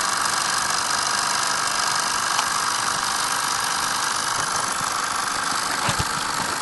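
A Wilesco D 14 model steam engine with a double-acting cylinder and flywheel runs steadily, its soft continuous hiss and mechanical chatter holding even throughout with no talking.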